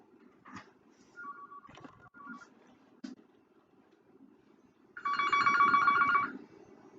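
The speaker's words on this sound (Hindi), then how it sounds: "मेरा फोन बज जाए" A mobile phone rings out briefly, a tonal electronic ringtone swelling loud for about a second and a half after quieter ambient room noise and a few faint tones earlier.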